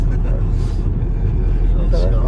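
A Volkswagen Golf FSI car's engine gives a deep, steady rumble as it accelerates, heard close and loud under someone talking.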